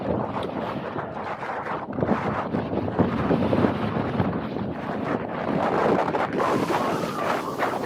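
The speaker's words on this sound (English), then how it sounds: "that was a wind gust just knocked the torch or the light over" Storm wind buffeting a Hilleberg Soulo tent during Storm Eunice, a continuous loud roar and rumble of gusts with flapping fabric that swells toward the end.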